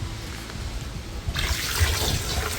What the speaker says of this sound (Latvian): Un ūdentiņš tek.